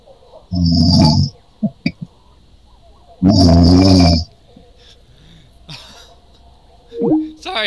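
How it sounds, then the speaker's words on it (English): A friend snores loudly nearby in two long, rasping breaths a few seconds apart, with a few faint clicks and a brief higher voiced sound between and after them. "Oh my god, my friend is snoring,"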